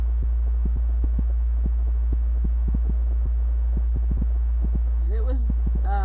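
An air conditioner gives a loud, steady low hum with a faint recurring throb and light ticks, and a brief voice rises near the end.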